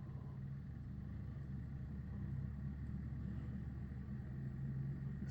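A pulse motor on a voltage doubler circuit spinning up, giving a steady low whirring hum and rumble that holds evenly throughout with no talk.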